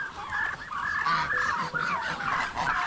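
Turkeys on a farm gobbling in overlapping, fluttering calls, a continuous chorus close by with no voices.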